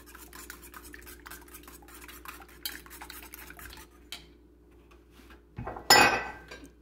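A utensil stirs Russian-style crepe batter in a bowl, giving soft, steady scraping and swishing close by, before a sharper, louder clatter near the end, with no talk.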